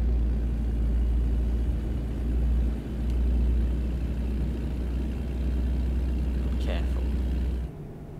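A heavy truck engine in American Truck Simulator drones in a steady low rumble, loud and constant, cutting off abruptly near the end.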